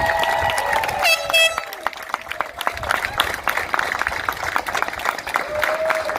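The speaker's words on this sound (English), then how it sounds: "I ask you to give them all a big round of applause" An audience at an 8th grade graduation ceremony breaks into sustained applause, scattered claps building into a steady patter, with a brief horn-like tone and some whistling or cheering mixed in.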